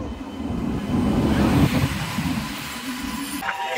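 A train rumbles across the Nasipur rail bridge in Murshidabad with a continuous low roar and clatter, steady and moderately loud throughout.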